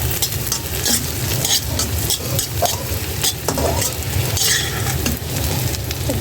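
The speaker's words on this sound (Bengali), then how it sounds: "আমার ছোট্ট মেয়েটা মশলাটা কষিয়ে ফেলছে" Spice paste being stir-fried in a pan for a vegetable dish made with bitter gourd from the balcony garden, a steady close sizzle under continuous scraping and stirring strokes of a spoon, with no talking.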